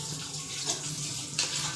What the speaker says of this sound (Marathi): थोडंसं त्याच्यामध्ये पाणी टाकलं जाईल